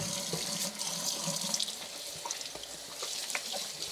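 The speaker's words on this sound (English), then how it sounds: "Put the water on hot" Hot water runs steadily from a sink tap, a continuous splashing hiss for the whole stretch with small clinks and drips over it.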